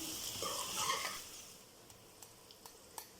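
Salted okra (lady's finger) fries in a pan with a soft, steady sizzle that fades a little, followed by a few faint taps and scrapes.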